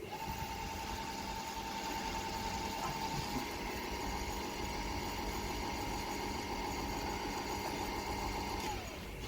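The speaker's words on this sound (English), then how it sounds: "run the pump again" A pump runs during Czech Pilsner home brewing, giving a steady mechanical hum with a constant tonal whine that holds evenly for several seconds before stopping abruptly with a small knock at the end.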